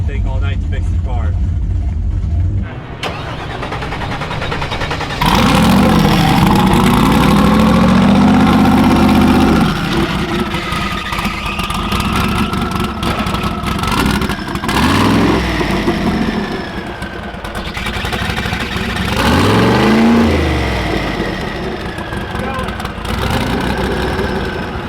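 A drag race car engine idles roughly and then revs in repeated rising bursts at the drag strip, loud and close, with people talking over it between revs.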